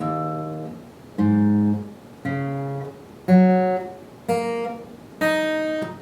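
Six separate guitar chords strummed one after another in an alternate tuning, slightly out of tune, each ringing out before the next, with a bright open tone and no voices.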